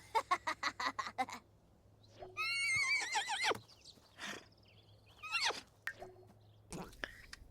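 A horse in The Sims video game gives a drawn-out whinny after a quick run of rhythmic snorts or clicks, followed by a few shorter squealing calls, fairly faint against a low hum.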